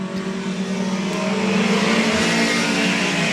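A four-cylinder Mini Cooper race car roars through a feature race at Evans Mills Raceway Park, its engine a loud, sustained drone that swells slightly as it keeps accelerating around the short track.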